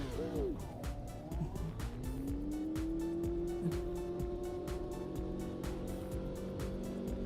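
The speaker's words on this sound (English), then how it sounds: "Listen closely for the start of the engine. You hear a whistling sound." Race car engine in the AMS2 sim racing game, a sustained engine tone that revs and then settles into a steady high drone with a faint whistling quality, continuous throughout.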